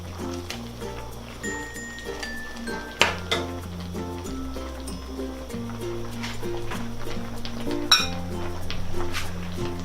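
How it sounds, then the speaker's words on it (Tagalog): A spoon stirs sinigang mix into mussel soup with watermelon in a cooking pot, giving scattered metallic clinks and taps against the pot over a steady bed of background music. "Tapos hahaluin lang po natin"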